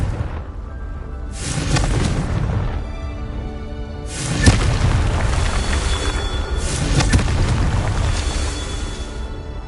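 Booming magical blasts from the Confringo spell in Hogwarts Legacy, several heavy bursts rolling over a continuous rumbling wash, loud and close, with no talk over them.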